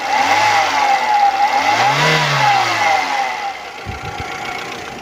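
A 2004 Hyundai Atoz engine runs steadily, loud and close, with a brief rise and fall in revs near the middle before settling back toward idle.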